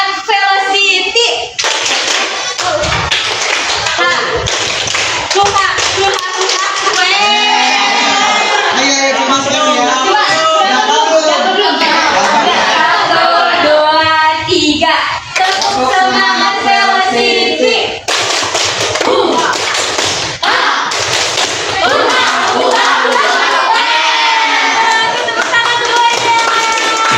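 A group of students claps a rhythmic spirit chant, tepuk semangat, in unison, loud and continuous with patterned bursts, young voices chanting and calling along throughout.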